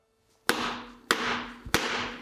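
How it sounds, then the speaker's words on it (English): Three sharp metallic taps ring out, evenly spaced and close, each from a copper hammer striking a cylinder liner of a Ferguson 23c engine, with a brief resonant decay between hits. "I've just got a copper hammer"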